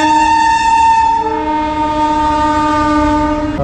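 A train at Ramghat Halt railway station in Ayodhya sounds a long, loud, steady horn that holds for several seconds, with rail noise running underneath.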